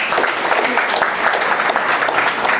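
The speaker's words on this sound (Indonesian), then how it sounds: "Tepuk tangannya dong semuanya." Audience at a DevOps meetup claps loudly and steadily for a few seconds, a close, thick patter of many hands with faint voices mixed in.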